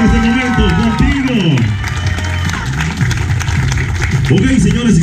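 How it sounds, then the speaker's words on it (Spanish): Guests applaud at a quinceañera celebration, steady clapping from a crowd lasting several seconds, mixed with a loud voice and musical tones over the top. "por este fuerte aplauso te queremos dar gracias"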